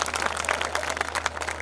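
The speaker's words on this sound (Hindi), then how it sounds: "एक बार ताली बजाओ" A large crowd applauds at a Hindi poetry recital held at Bageshwar Dham, with dense, steady clapping that keeps going the whole time and no voices standing out.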